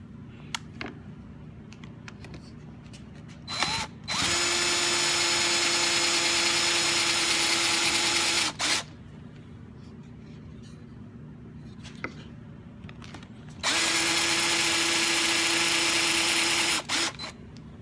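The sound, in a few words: power drill boring through guitar body into backer board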